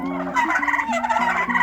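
Farm turkeys gobbling close by in a quick string of rattling calls, several birds overlapping for under two seconds with no talk.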